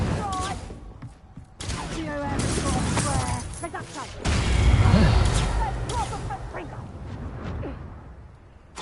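Spell effects from a video game, Confringo and Reducto, burst out as whooshing, booming blasts one after another, loud and dense, with a voice talking over and between them.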